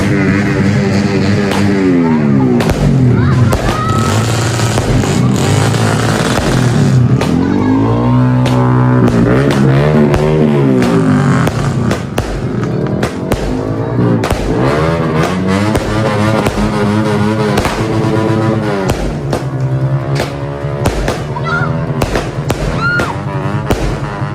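Rapid bursts of Christmas Eve fireworks in Bacolod, a 25-shot Tiger Fireworks cake, crackle and pop in a dense, continuous barrage, loud and close, with whistling shots rising between the explosions.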